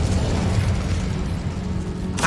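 An Incendio fire spell blasts in Hogwarts Legacy with a loud, sustained roaring whoosh of flame and low rumble, ending in a sharp burst at the close.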